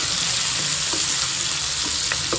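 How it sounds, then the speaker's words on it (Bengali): A loud, steady sizzle of onions frying in a hot pan, with a few light stirring scrapes. "পেঁয়াজটা একটু ভাজা ভাজা হোক।"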